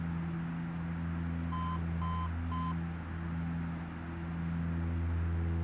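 During the takeoff warning test in a Dash-8 cockpit in the Aerofly FS 4 flight simulator, three evenly spaced electronic beeps sound clearly over the steady, loud drone of the cockpit and engines.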